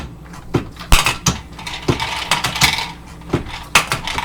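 Bullets dropping down the feeder tube of a Lee APP press, a series of sharp metallic clinks and clatters at irregular intervals, close and fairly loud over a light mechanical background.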